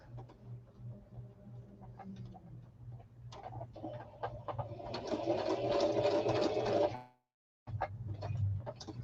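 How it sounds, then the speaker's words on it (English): Sewing machine stitching a craft piece, a rapid mechanical whirr that builds louder and faster over several seconds, stops abruptly, then resumes briefly; close and alone, with a few clicks before the run. "I'm sewing this really quick."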